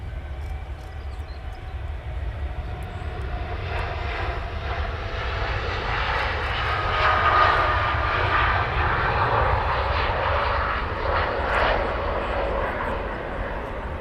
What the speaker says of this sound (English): Very nice indeed for Dreamliner.